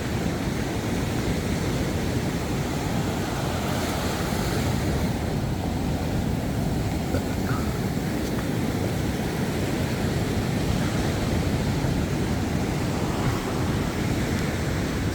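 Waves wash continuously onto a beach in Bali, a steady, even rush of surf mixed with wind buffeting the microphone, with no voices.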